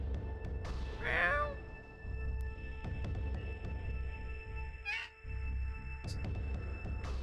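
A cat meows a few times in short, rising cries over a low steady hum, with brief pauses between calls.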